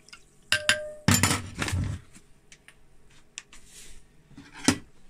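Spoon stirring a ginger bug in a glass fermentation jar, a few sharp clinks and clatters near the start, a busy burst of scraping stirs, then quieter scattered taps and one last clink.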